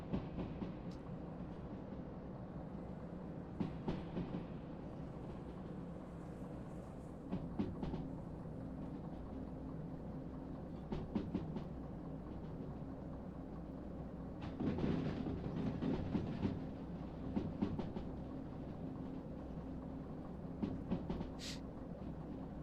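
A light train in the Derail Valley game rolls downhill with a faint, steady low rumble broken by occasional soft clacks and thumps from the wheels and cars.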